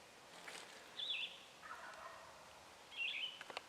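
A wild gobbler gobbles twice, a few seconds apart, on public land in Kentucky in spring. Each call is a brief rattling burst carrying from some distance over quiet woodland air.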